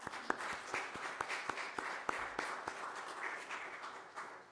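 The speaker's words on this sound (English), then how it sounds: "I ask you to just join me in expressing our gratitude for one another by clapping for each and for all." A church congregation claps together during a Sunday celebration service, a steady wash of many hands heard from some distance at a fairly soft level, with a few sharper individual claps standing out and no talking.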